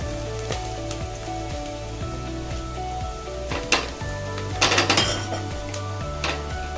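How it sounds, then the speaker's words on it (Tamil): Onions sautéing lightly in a pan for a traditional Tamil coconut rice and curry give a soft, steady sizzle, broken by occasional clinks and scrapes of a utensil against the pan, over continuous background music. "வெங்காயம் நல்லா லைட்டாக வதங்கினா போதும்."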